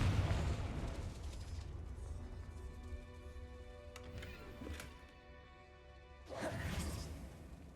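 A Confringo fire spell blasts in Hogwarts Legacy. A burst sounds at the start and fades into a ringing, tonal decay, then a second whooshing burst arrives near the end, with no talking.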